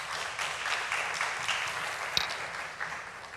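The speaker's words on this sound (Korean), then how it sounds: "큰 박수로 맞이해 주십시오" A church youth group gives a steady round of applause to welcome a professor to a marriage lecture, with many hands clapping evenly in an indoor hall and no speech over it.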